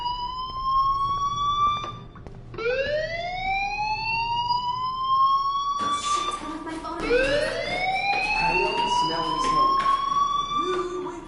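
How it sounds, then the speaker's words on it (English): Fire alarm wailing, rising electronic tones that sweep up and hold, repeated several times, loud and continuous with no talk over it. "Hey, do you hear that fire alarm?"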